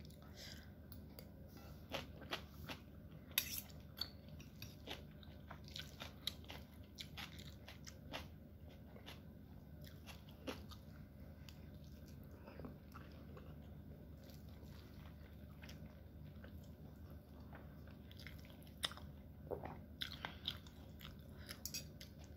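Stir-fried wide rice noodles with egg are chewed close up, giving soft, repeated, irregular biting and mouth sounds over a low steady background hum, quiet throughout.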